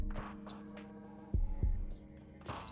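A deep 808 bass synthesized in FL Studio 20 drones low and steady, with two heavier booming hits near the middle and faint higher blips above.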